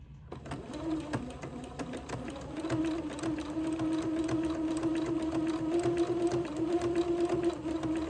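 Sewing machine running a zigzag stitch around the curved neckline of a dress, a close, steady mechanical whir with rapid needle ticking that continues at an even moderate pace throughout, alone without talk.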